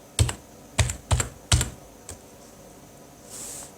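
A computer keyboard typed on while entering a copy command in a terminal: four crisp, close keystrokes in a quick uneven burst, then a softer fifth tap and a brief hiss at the end.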